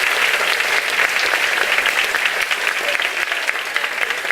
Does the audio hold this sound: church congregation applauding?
yes